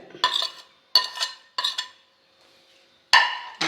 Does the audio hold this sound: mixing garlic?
yes